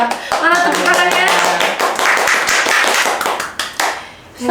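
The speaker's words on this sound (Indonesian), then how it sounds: "Mana tepuk tangannya?" A podcast audience at the PAN parliamentary faction office claps briskly in a close, lively burst, with voices talking and calling out over the clapping before it tapers off near the end.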